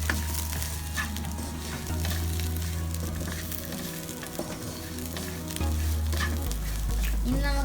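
Clam meat fries in a pan with turmeric and coriander powder while being stirred: a loud, continuous crackling sizzle up close, with occasional scrapes and a deep hum underneath.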